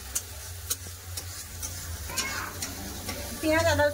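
Onion, ginger and garlic stir-frying in a pan for a chickpea curry, a soft steady sizzle with occasional stirring scrapes, fairly quiet and close, with no clear talk.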